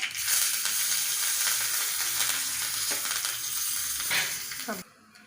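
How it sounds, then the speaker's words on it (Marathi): Loud, crackling sizzle of mustard seeds, cumin, asafoetida, turmeric and curry leaves hitting hot oil, spattering steadily for several seconds before cutting off abruptly near the end. "फोडणी घालून घ्यायची मस्त लागते"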